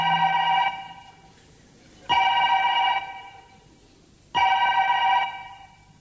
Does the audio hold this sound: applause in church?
no